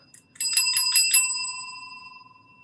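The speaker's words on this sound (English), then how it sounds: "I ring the bell for you and I make a big fuss" A bicycle-style bell rung in a quick run of about five bright dings during a beach-house fitness class, ringing clearly and then decaying into a fading shimmer.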